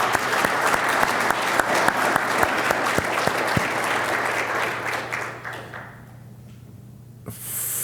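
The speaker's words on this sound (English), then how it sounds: "Pam, Patrick, hand of applause" An audience at an IT symposium applauds, a crowd clapping steadily with sharp individual claps standing out, then fading into quiet near the end.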